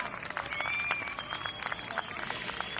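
Applause from a crowd at a Westchester Community College commencement ceremony for graduates, a steady dense patter of clapping with some crowd noise, moderately loud throughout.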